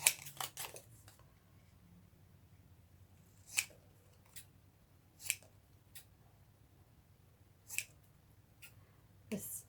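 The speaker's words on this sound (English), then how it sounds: "Okay, and then cut out the sentiment." Scissors cut a paper sentiment for a handmade stamped gift box: a handful of crisp, separate snips spaced a second or two apart, close and quiet, with no talking.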